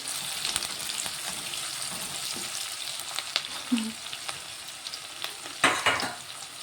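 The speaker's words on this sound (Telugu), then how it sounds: "ఇప్పుడు కట్ చేసుకున్న ఉల్లిగడ్డలు వేస్తాం కొంచెం ఫ్రై అవ్వాలి" Chopped onions fry in a hot pan with a continuous sizzle, broken by a few scraping stirs and a louder burst near the end, and nobody speaks.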